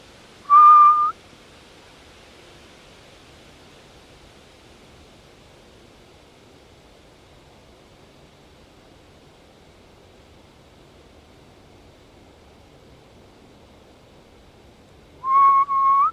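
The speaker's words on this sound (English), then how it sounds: "Do a little whistle and see if we can't antagonize something" A person at an outdoor campsite gives two short, clear whistles about fifteen seconds apart, each brief and fairly loud against a faint, steady background hiss.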